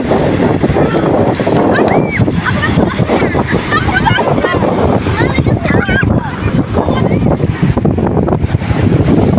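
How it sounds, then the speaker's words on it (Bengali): Ocean waves wash onto Sugandha beach at Kolatoli, Cox's Bazar, a steady loud surf roar buffeted by wind noise on the microphone, with bathers' voices and shouts mixed throughout. "পা ভিজাই দিচ্ছে একটা করে ঢেউ এসে"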